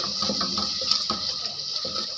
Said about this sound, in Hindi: थोड़ा सा इसके अंदर मैं पानी डाल दूंगा